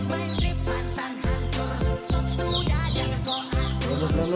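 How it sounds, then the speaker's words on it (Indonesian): A Kenari loper canary sings nonstop in a bird kiosk, a loud, close, rich warbling song full of rapid trills and chirps that keeps going throughout. "ada yang namanya kenari loper 100 ribuan"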